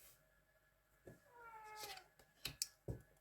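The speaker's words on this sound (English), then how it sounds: "Can you hear my cheeky monkey of a kitty cat?" A pet kitty cat meows once in a drawn-out, wavering call, then gives a few short, sharp chirps and thumps nearby in an otherwise quiet room.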